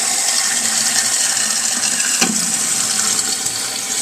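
A household toilet flushes after its shutoff valve and flapper have been replaced, giving a steady rush of water that holds close and loud throughout, with a brief sharp knock partway through.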